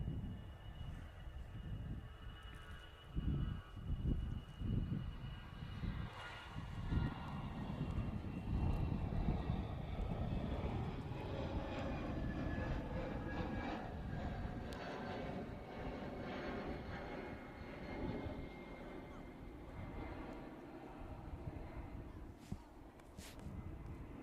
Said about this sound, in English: Lufthansa about to depart.